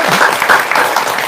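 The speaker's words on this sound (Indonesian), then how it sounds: "Tepuk tangan dong." An audience at a Quran recitation gathering claps hands in a brief, loud, dense burst with no speech over it.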